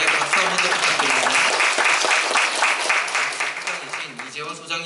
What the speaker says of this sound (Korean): 박수 한번 더 부탁드립니다